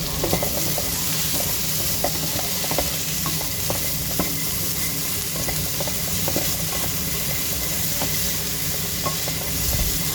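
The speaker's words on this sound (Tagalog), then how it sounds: "ganun din po ang gawin natin sa ating patatas. Okay, so haluin lang pong mabuti para magiging pantay ang kanyang pagkaluto" Potatoes frying in a pan, a dense continuous sizzle with frequent clicking and scraping stirs throughout, close and steady, no talk.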